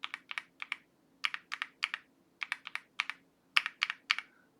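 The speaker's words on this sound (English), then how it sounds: "we have the C3 Tangerines in stock form. It's definitely a higher pitch compared to the Oil King" Stock C3 Tangerine linear switches clack under bursts of typing on a mechanical keyboard, with quick clustered keystrokes, close and crisp with a higher-pitched tone, and short pauses between groups.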